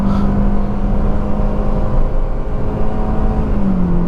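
A 2022 Hyundai i20's engine accelerating, heard as a loud, steady whirring drone from inside the car whose pitch holds and then drops slightly near the end, with no voices.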